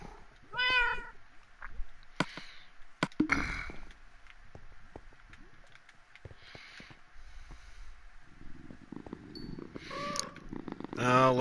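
A Minecraft cat meows several times among purring and light shuffling noises, with short, close tonal cries at the start and near the end, mixed with soft background activity.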